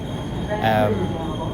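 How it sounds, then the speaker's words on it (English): A New York L train subway car rumbles along with a steady low hum and rattle inside the carriage, and a brief metallic squeal rises midway. "So we're on the L train."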